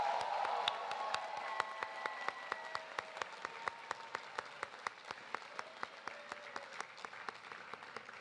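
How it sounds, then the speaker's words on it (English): Applause from the audience at a Duke Engineering master's hooding ceremony, a broad crowd clapping that thins over several seconds into sparse, evenly spaced claps. "please join me in yet another round of applause"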